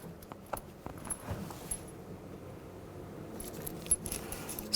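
Small metal mounting bolts for a 2007-2012 Dodge Caliber window regulator motor jingle and clink in a hand, a few light scattered taps over a quiet workshop hush.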